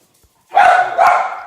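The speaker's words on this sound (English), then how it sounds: "I can't keep them from barking." Dogs barking indoors, two loud close barks in quick succession after a short quiet start, with no voices.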